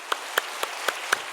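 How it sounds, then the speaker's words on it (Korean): A church congregation at a Sunday service claps together in welcome, heard as five sharp, evenly spaced bursts of applause over a steady room hiss. "우리 뜨거운 박수로 환영하겠습니다"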